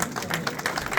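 Applause from a crowd at a pigeon tournament prize ceremony in Birmingham, a brief burst of steady, dense clapping.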